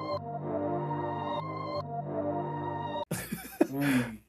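Melodic music sample pitched up three semitones in a production session plays as sustained tonal notes with clear note changes for about three seconds, then stops abruptly and a person speaks briefly.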